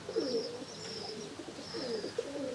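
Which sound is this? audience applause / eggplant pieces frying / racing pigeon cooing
racing pigeon cooing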